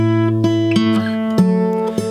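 Acoustic guitar playing the chorus of a song at a slow tempo, sustained strummed chords changing every half second or so, close and clear with no voices.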